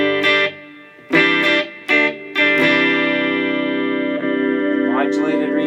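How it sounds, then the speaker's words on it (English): Electric guitar played through a Fender Mustang Micro headphone amp with spring reverb, a few short plucked notes followed by a sustained ringing chord that decays with a shimmering spring-reverb tail, loud and close. "spring reverb will be the next one"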